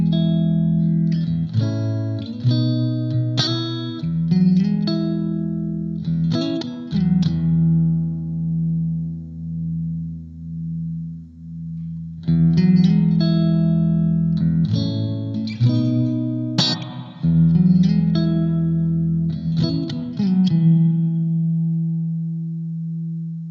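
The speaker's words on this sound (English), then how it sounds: "Segment number 2 now is a hall reverb" Electric guitar played through a Blackstar ID Core V3 amp with a hall reverb setting, heard alone as sustained notes and strummed chords, each washing into a long, spacious tail that rings out between phrases.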